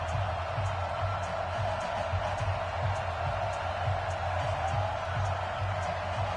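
A steady stadium crowd roars continuously at a Tennessee Titans versus Houston Texans NFL game in an EA Sports football video game, a dense, even wash of distant cheering with no distinct peaks.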